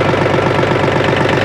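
Mahindra OJA 2127 tractor engine running at a steady, loud idle with a fast, even low-pitched throb and slight knocking texture, close up and uninterrupted.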